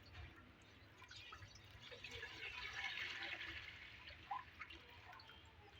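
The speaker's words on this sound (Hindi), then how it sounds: "1 जग पानी शामिल करेंगे" A jug of water poured into a cooking pot on the stove before rice is boiled, a soft continuous trickle and splash that swells in the middle and tapers off, fairly quiet and close.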